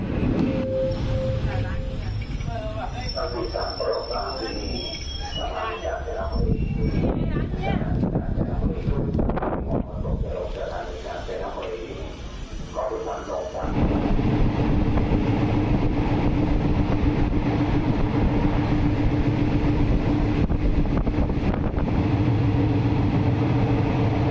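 A train on the Thai line toward Sai Yok rumbles into Kanchanaburi station, a continuous low roar with wind buffeting that swells louder partway through, while a voice talks over the ride.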